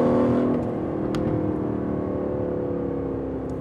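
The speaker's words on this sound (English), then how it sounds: "Track mode is really loud. It sounds brilliant." An Aston Martin Vantage with an AMG V8 in track mode gives a loud, sustained engine drone that eases slightly after the first half second, then holds a steady, close roar.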